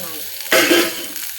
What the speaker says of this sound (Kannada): ಈರುಳ್ಳಿ ಹಾಕ್ಕೊಂಡು ಸ್ವಲ್ಪ ಕೆಂಪು ಆಗೋವರೆಗೂ ಬಾಡಿಸ್ಕೋಬೇಕು